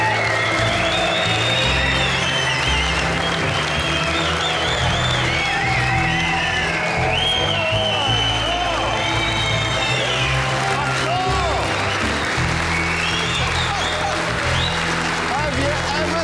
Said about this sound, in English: I want a huge round of applause.